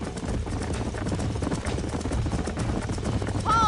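Horse hooves clip-clop steadily in Red Dead Redemption on PS5, a continuous close rhythm over outdoor ambience, with a brief whinny near the end.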